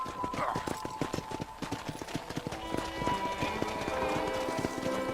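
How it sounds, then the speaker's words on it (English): Rhythmic clip-clop of horse hooves trotting in the Red Dead Redemption video game, close and steady with even beats, while someone talks over them and a faint musical tone hums behind. "And here's the corral. This one's for the horses."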